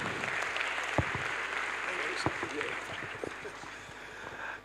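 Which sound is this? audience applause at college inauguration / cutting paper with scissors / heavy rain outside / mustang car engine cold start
audience applause at college inauguration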